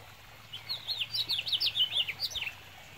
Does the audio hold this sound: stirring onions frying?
no